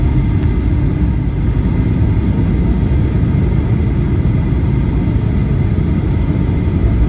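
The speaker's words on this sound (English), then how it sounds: "Flaps 30 are set, the gear are down 3 greens, and we are cleared to land on runway 26 left." Southwest Airlines airliner on final approach to land with flaps and landing gear down, a steady loud low roar and rumble heard from inside the cabin, continuous, with no talking.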